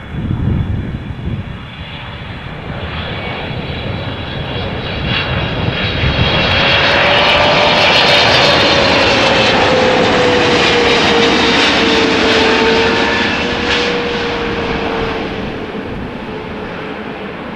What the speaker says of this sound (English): 777-300 howl that you hear on triples, but also on freighters